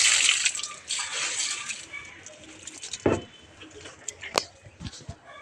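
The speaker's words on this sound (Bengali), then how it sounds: "তো এই ডাম থেকে জল তুলি" Water scooped and poured from a drum on a rooftop for watering plants, heard as close splashing and trickling in uneven bursts with a few sharp knocks, no talk.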